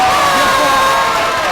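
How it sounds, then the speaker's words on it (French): Studio audience on a Burkina Faso TV variety show cheering and clapping, a loud dense burst of crowd noise with shouts that fills the whole moment. "Et ça s'applaudit."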